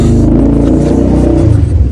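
Four-wheelers and dirt bikes rip around nearby, a loud, dense rumbling engine roar with shifting revs filling the whole stretch, no voices.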